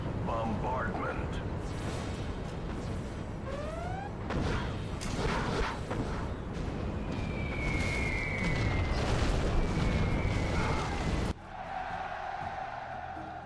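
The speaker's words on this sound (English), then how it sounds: "Bombardment." Booming artillery bombardment and explosions in the game C&C Generals Zero Hour, a dense barrage of blasts layered over game effects and background voices, loud and sustained until it cuts away near the end.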